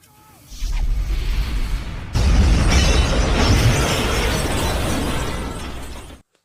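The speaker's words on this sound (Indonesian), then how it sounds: "rumah itu meledak hancur berkeping-keping" A house explosion: a sudden heavy blast bursts in, then a long roaring rumble of debris that slowly fades to silence.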